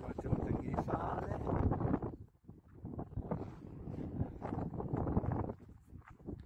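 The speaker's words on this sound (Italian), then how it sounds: "C'è un po' di vento" Wind gusting across the Trapani salt pans, with piles of salt nearby, in September. It makes a steady, loud buffeting rumble on the microphone that drops briefly and then builds again.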